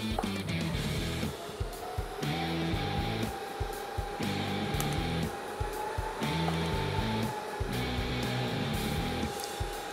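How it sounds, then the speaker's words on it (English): Tack welding a weld nut onto threaded rod in a garage shop, a steady buzzing crackle from the welder that runs in short repeated bursts separated by brief pauses, close and fairly quiet. "That'll keep the nut centered during welding. Just tacking first."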